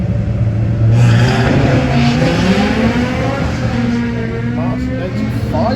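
Drag racing car accelerating at Santa Pod during the European Finals, its engine roaring loud and close in a sustained rising run, with a commentator's voice heard over the noise.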